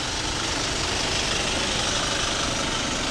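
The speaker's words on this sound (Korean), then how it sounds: "지금 차가 밤에 도착해서 발전기 돌려가지고 라이트 켜고 지금 찍어보는데요." A portable generator runs steadily at night beside a used hot dog and chicken skewer food truck, a dense continuous engine drone with low rumble, even and unbroken throughout.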